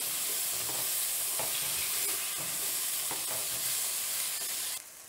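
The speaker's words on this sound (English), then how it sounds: "once you season your onions and peppers, you just want to stir everything around every couple of minutes" Seasoned onions and peppers sauté in a pan with a constant bright sizzle and soft scraping stirs, heard close and alone, cutting off abruptly near the end.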